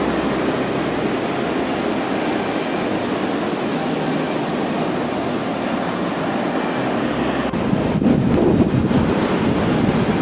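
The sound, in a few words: waves on Carmel Beach, Carmel-by-the-Sea, California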